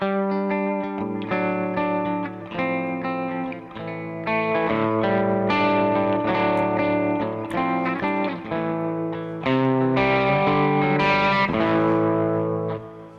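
Electric guitar played through a Kemper Profiler with the fuzz switched off, a sustained run of chords and notes with chorus and effects shimmer, loud and continuous with no talking.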